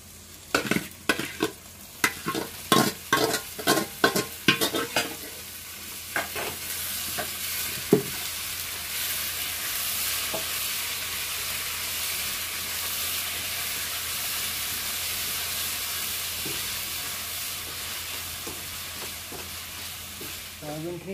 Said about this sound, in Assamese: সয়াবিনখিনি দিয়াৰ পিছত মই আৰু অলপ টাইম ইয়াতে মছলাখিনিৰ লগত ভাজি ল'ম